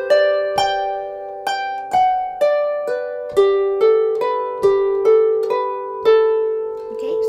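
Harp playing a lesson phrase from a tune, with a three-note scale: about a dozen evenly spaced plucked notes, each ringing and decaying before the next, played clearly and alone.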